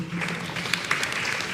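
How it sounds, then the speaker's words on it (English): Audience applause at a primary schools quiz competition, a steady wash of clapping held at moderate level for about a second and a half with no one speaking over it. "round of applause there"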